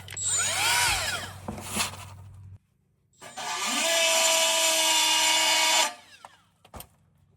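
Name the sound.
die grinder running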